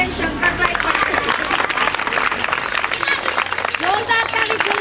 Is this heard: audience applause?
yes